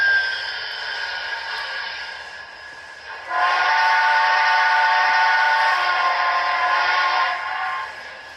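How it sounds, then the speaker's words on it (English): A model Southern Pacific GS-4 steam locomotive whistle sounds in one long, steady blast with layered tones over a soft background hiss, then fades. "Nice sounding whistle"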